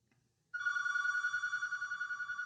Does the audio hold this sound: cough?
no